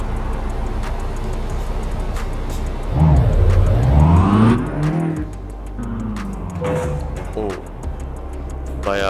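A Renault 9 car in Euro Truck Simulator 2 accelerates, its engine tone climbing and sweeping through gears with rising and falling whines, while someone talks over it and a faint ticking runs in the background.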